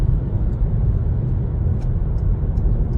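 Steady engine drone of a manual-gearbox car running in sixth gear while joining a motorway near Bobigny, loud and continuous with road rumble throughout and no voices.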